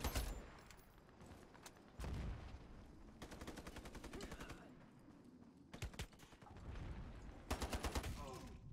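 Gunfire and sniper shots in the video game Ironsight, with sharp single cracks, rapid automatic bursts and heavier booms spread across a fairly quiet mix, punctuated by sudden loud volleys.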